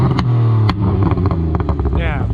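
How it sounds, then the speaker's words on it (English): A BMW E46 with a cheap tune revs hard toward about 6000 rpm, a loud close engine drone with sharp transient pops and cracks from the exhaust, while voices talk over it. "And the pops, as you can hear, are insane."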